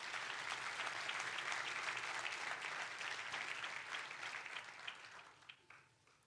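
A congregation at a church service claps loudly and steadily, the dense applause holding strong before thinning out and fading near the end into a few scattered claps.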